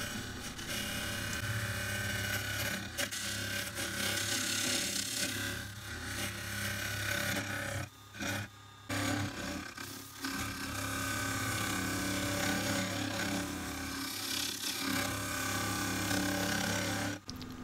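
A round carbide tool cuts a chestnut and multi-resin bowl spinning on a wood lathe, giving a steady, loud scraping hiss with brief gaps where the cut pauses, running alone without talk.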